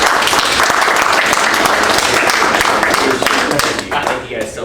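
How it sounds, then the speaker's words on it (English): Applause at an Oakland town council meeting, a dense wash of many hands clapping steadily throughout, loud and close, thinning slightly near the end with voices mixed in. "If you ever want to give them a round of applause."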